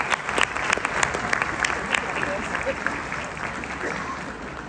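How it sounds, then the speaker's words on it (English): Steady applause from a concert audience, a dense patter of many hands clapping continuously at a moderate distance, with a voice faintly underneath. "I'd like to give them a public round of applause as well."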